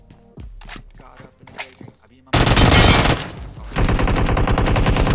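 Uzi submachine gun in the BGMI battle royale game: after quiet footsteps and small clicks, a sudden loud sustained burst of rapid automatic fire, a brief lull, then another long continuous burst.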